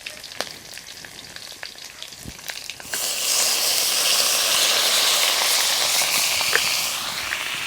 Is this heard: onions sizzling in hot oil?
yes